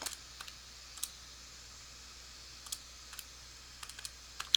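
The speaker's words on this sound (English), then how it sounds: "If you type any of those three expressions into your calculator in degree mode" Keys on a calculator keypad are pressed as expressions are entered, producing a handful of soft, separate clicks spaced irregularly over a quiet background, close but faint.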